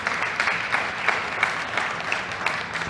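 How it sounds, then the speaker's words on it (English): Applause at a community meeting for active older adults, a moderate, even patter of many hands clapping at a steady pace, somewhat soft and sustained through the moment. "can clap for them"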